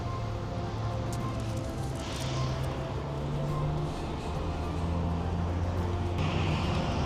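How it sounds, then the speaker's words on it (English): Trucks idle at a Love's truck stop at night, making a continuous low diesel rumble with shifting engine drones and distant traffic noise that fill the open lot steadily. "you can hear these trucks running all night"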